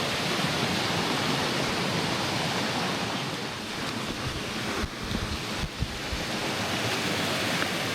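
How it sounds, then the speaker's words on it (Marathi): Swollen village river in the Konkan after days of heavy pre-monsoon rain, a steady, loud, broadband roar of rushing floodwater filling the whole stretch without a break, close and continuous. "ही बघा माझ्या गावची नदी तुफान झाली आहे."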